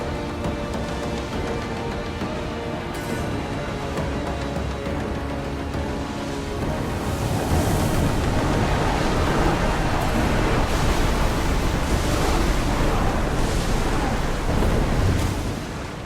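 Ocean waves and surf rushing around a sailing ship at sea in Assassin's Creed Odyssey, a loud continuous wash of noise that swells stronger partway through and holds without talk.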